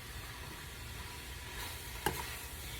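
Tomato paste is stirred into spaghetti with meat and vegetables, giving a steady soft sizzle in the pan, with a single sharp utensil clink partway through.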